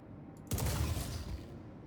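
A VOLT shotgun fired once in the video game Star Citizen, a single sudden loud blast that rolls off over about a second into a fading tail, with nothing else heard.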